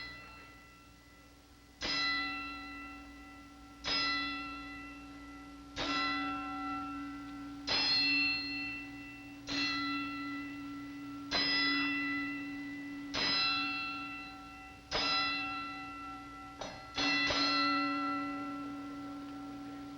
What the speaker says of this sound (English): our timekeeper at the bell, Lindsay Tucker, will toll the bell for the final time for Pappy Galt and former middleweight champ